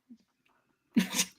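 A single sharp human sneeze bursts out loud and close after a brief quiet breath, ending abruptly with nobody talking over it.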